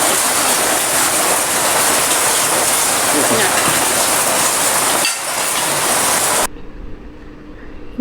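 Steady, heavy rain pours down in a village as a dense continuous hiss that fills most of the clip, then stops abruptly near the end, leaving quieter background sound.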